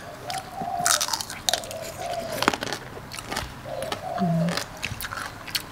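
Someone bites and chews a spicy Thai salad of large fresh shrimp, giving close, wet crunches and squishy chewing in uneven bursts, with faint vocal sounds between bites.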